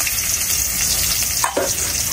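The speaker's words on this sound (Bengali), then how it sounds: "আমার পেঁয়াজটা এদিক দিয়ে ভাজা হোক" Chopped onion fries in a pan during village-style cooking of a desi rooster curry, giving a steady close sizzling hiss that carries throughout, with a brief clatter near the end.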